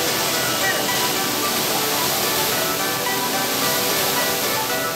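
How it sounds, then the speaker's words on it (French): Powerful waterfall in a Laos bamboo jungle, a loud, unbroken roar of crashing water filling the air with dense, hissing spray. "Le courant est si fort qu'il est impossible de se baigner à la fondation des chutes"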